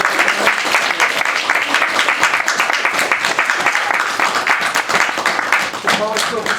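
An audience at a poetry reading by two poets applauds, with loud, dense clapping close by and steady throughout, and a voice briefly heard near the end.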